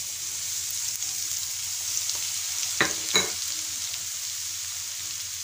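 Garlic paste and dried red chillies for tomato pickle sizzle steadily in hot oil. Two brief stirring scrapes stand out partway through the continuous frying hiss, and no voices are heard.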